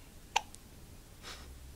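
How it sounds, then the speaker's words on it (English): A baby hiccups once, a short sharp sound near the microphone in a quiet room, followed by a faint soft breath. "Someone's got hiccups."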